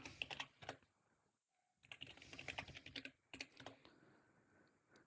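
Bursts of rapid clicking come from a computer keyboard as a Linux terminal command is typed, close and crisp in uneven clusters with short pauses between them and no voices.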